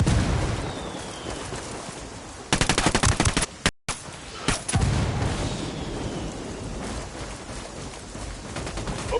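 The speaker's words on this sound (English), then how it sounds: "Opening fire." Gunfire in the video game Ghost Recon: a loud burst of rapid automatic fire cracking over ambient rain-like noise, with a few further scattered shots after a brief dropout.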